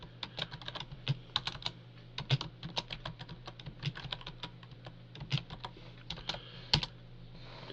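Quick, light clicks of a computer keyboard as a chat message is typed, steady and irregular for several seconds, close and soft, with no voices.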